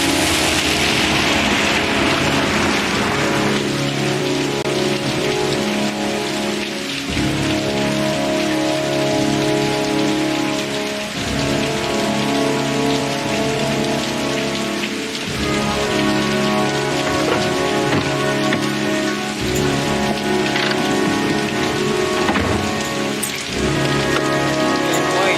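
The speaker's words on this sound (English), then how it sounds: "Had a heavy rain." Heavy rain pours steadily and loudly on a surface, a dense continuous hiss with scattered drips and occasional low thuds, no talking.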